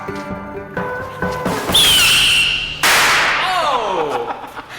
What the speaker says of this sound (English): Time for a test, albeit with a flimsy firework.